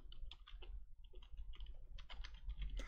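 Quick keystrokes clatter on a computer keyboard, close and clear, in short irregular bursts of clicks with brief gaps between, with no voices.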